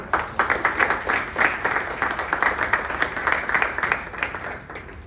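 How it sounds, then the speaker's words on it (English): A campus lecture audience claps for a guest speaker, a close, lively round of applause with rhythmic peaks of individual claps running throughout, no talking over it. "Let's give her a round of applause."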